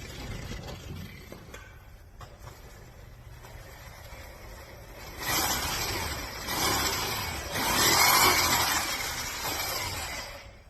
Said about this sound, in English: We're going to spin the buff really slowly.